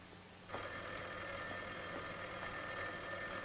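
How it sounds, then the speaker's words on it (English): An old-fashioned telephone bell starts ringing about half a second in and keeps up a steady, continuous electric ring at close range in a quiet room for the rest of the clip, with no one speaking. "I've got to answer the phone."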